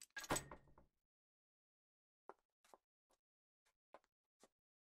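Door opening in Silent Hill 2: a loud mechanical clunk and creak at the start, followed by quiet, sparse footsteps or small taps spaced out in near silence.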